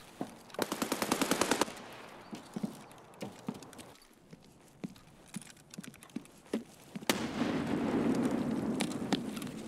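A gunfight in Escape from Tarkov: rapid bursts of automatic fire and scattered single shots, muffled and fairly distant, with a denser rattling burst near the start and another toward the end.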